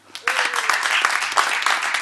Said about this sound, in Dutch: Jullie mogen voor jezelf klappen